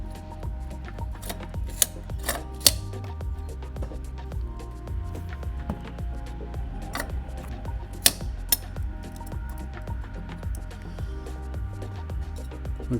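Safety wire being twisted tight with pliers during an oil change on a 50-year-old Cessna 172, heard as a few sharp metallic clicks and snips over a steady low hum, close and with no talk.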